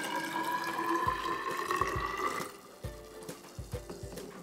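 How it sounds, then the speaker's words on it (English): Blue-dyed water pouring into a container during a kids' science experiment, a steady splashing stream that stops partway through, followed by a series of distinct drips and small plops. "Now we're gonna pour blue dye."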